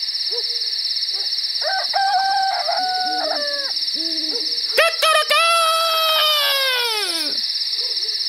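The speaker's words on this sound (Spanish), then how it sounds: "¿Canta un gallo?" A rooster crows with a long, drawn-out call that falls at the end, preceded by shorter clucks and bird calls over a steady high insect-like drone.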